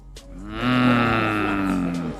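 A cow moos once in a long, loud, close call that swells and holds steady for about two seconds.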